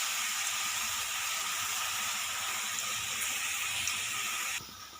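Gram flour boondi batter dropped through a perforated ladle into hot oil, making a steady, dense frying hiss that runs continuously and drops off near the end.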